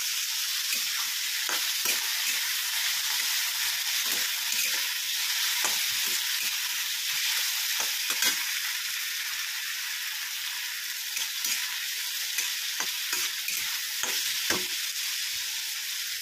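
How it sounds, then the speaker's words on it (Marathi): Tomatoes sautéing in a hot pan, giving a constant bright sizzle over the whole stretch with frequent scraping stirs and small pops at uneven intervals, close and moderately loud. "तर आता आपण त्यामध्ये टोमॅटो टाकून घेऊया. तर छान असं परतून घेऊया."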